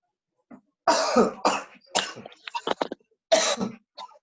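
A burst of harsh coughing close to the microphone, several rough hacks in quick succession followed by a couple of shorter ones.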